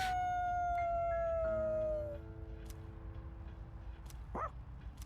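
A dog in the video game Persona 3 Reload gives a long, drawn-out howl that slides downward and fades, followed by a brief yip near the end over a steady game background.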